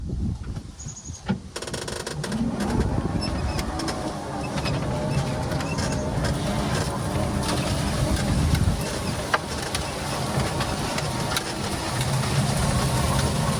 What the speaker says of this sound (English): going from low range to high range, is a slight reduction in gear noise as the gear reduction was decreased